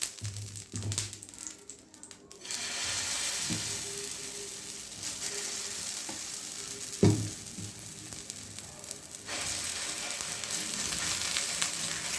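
Oil sizzles steadily on a hot dosa griddle while a lentil dosa is made, a continuous crackling hiss with a brief clatter midway and a louder burst of frying near the end.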